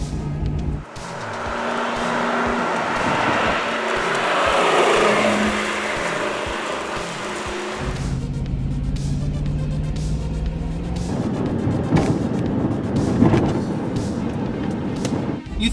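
1985 Lamborghini Jalpa engine revving high while driving, a loud strained engine roar climbing in pitch, then a gear change into a lower steady drone with road and wind noise.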